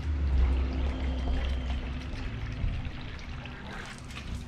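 Water pours steadily into the engine of an old abandoned mini truck box van, a continuous close trickling and gurgling stream.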